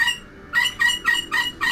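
A bird clucks in a quick series of five bright, repeated calls, fairly close and with no voices.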